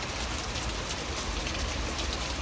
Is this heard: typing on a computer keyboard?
no